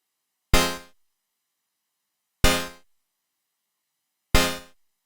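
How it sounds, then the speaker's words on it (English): A saw-wave wavetable synthesizer oscillator plays a dub techno chord three times. Each hit is a bright, buzzy, harmonically rich stab with a fast decay, evenly spaced about two seconds apart with silence between. "Okay, then we've got this saw wave wavetable."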